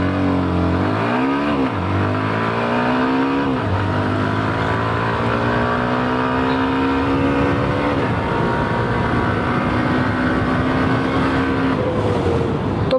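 A 125cc Hero Xtreme 125R motorcycle in power mode accelerates hard from a standstill to 80 on a city road. Its engine note climbs steadily, dropping at each gear change, and stays loud and close throughout with no talking.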